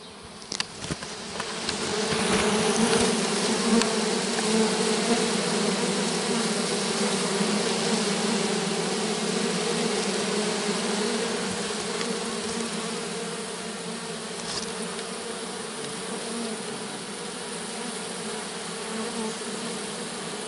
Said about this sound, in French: un essaim d'abeilles installé dans une poubelle